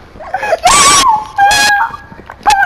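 Dog whimpering in the Minecraft video game, three short high whiny yelps with pauses between, loud and close, with a voice briefly reacting near the start.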